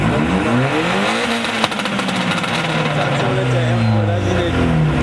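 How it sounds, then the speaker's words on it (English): A loud BMW M4 sports car engine revs up and down with rising and falling pitch, close by, with a sharp click near the start and voices faintly underneath. "Just let him rev."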